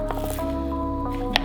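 Hands pat a coffee-and-cocoa rub onto raw pork chops, giving a few wet squishes and taps against a steady background hum, with a sharper slap near the end.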